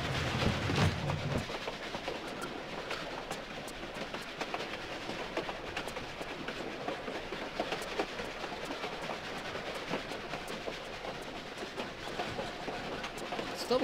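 A train rolls along in a Tomb Raider level, a steady rattling clickety-clack of wheels and carriages at moderate volume, with no talk over it.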